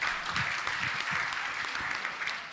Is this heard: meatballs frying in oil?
no